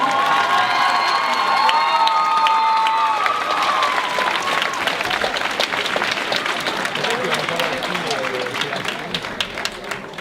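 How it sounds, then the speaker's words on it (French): A crowd applauds and cheers loudly and continuously at a battle of the bands, with tonal music or voices audible early on before the clapping dominates. "on les applaudit une dernière fois"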